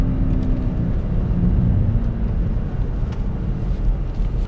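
A BMW X6 M60i with a twin-turbo V8 pulls hard under acceleration in sport mode, its steady, loud low engine roar with a light exhaust burble heard from inside the car.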